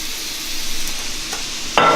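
A splash of Pinot Noir wine hits a hot pan and bursts into a loud, close hiss of sizzling near the end, following a quiet stretch of faint kitchen noise.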